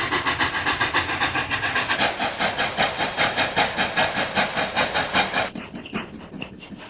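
A train chugs along the High Line railway track above a canyon over the Animas River in the American Southwest, sounding as steady, rhythmic, hissing chuffs close by that fade slightly near the end, with no talking.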